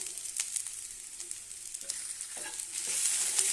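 Lady's finger (okra) sautéing in a pan for a dry fry, giving a soft, steady sizzle with light stirring scrapes and a few spoon taps, growing slightly louder toward the end.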